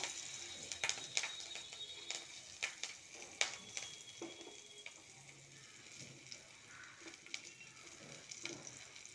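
Nigella seeds and green chilli sizzling in hot mustard oil in a home kitchen pan: a faint, steady crackle with scattered sharp pops and spits, no talking.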